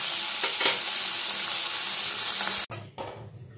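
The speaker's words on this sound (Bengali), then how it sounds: "তেলটা গরম হয়ে গেলে নুন হলুদ মাখানো চিংড়ি মাছটা এর মধ্যে দিয়ে হালকা নাড়াচাড়া করে আমি তুলে নেব।" Prawns coated in salt and turmeric sizzle loudly in hot mustard oil in a wok, a dense close crackle with faint stirring, cut off abruptly near the end as the heat drops to a fading hiss.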